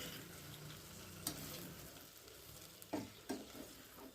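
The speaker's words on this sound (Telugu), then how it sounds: "అన్నీ వేసి మళ్ళీ ఒకసారి తిప్పేసుకోవాలి." Cluster bean curry frying gently in oil over low heat while being stirred, a steady soft sizzle with a few sharp scrapes and clinks of the spoon against the pan near the end.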